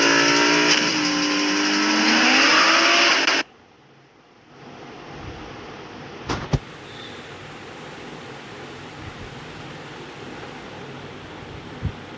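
A car racing advert plays inside a mobile game: loud roaring and revving engines run for a few seconds, then cut off abruptly, leaving a quieter hissing background with a couple of small clicks.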